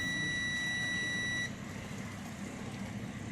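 A digital multimeter set to diode range gives a steady, thin continuous beep for about a second and a half as its probes touch the 12 volt jack on a power supply board, then goes silent.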